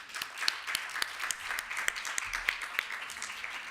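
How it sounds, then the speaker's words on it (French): Audience at a Red Cross foundation awards ceremony applauding a prize winner, with distinct individual claps standing out from a moderate, steady round of applause in a room. "on peut applaudir"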